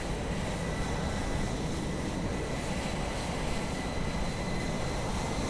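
An Aer Lingus A320 jet takes off at Dublin Airport in Microsoft Flight Simulator 2020, a loud continuous engine roar with broad rumbling noise and steady high whine, no talk.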